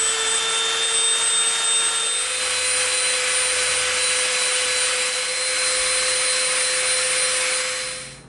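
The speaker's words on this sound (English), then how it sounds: "We're gonna come in with the Dremel and we're gonna round this edge off right here." A Dremel rotary tool rounds over the edge of EVA foam with a steady, loud high-pitched whine that holds for about eight seconds and then fades out. No one speaks.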